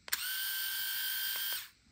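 A Xiaomi Mijia electric shaver, the larger model, switches on with a click and hums in a steady high-pitched whine for about a second and a half before cutting off, quiet and close.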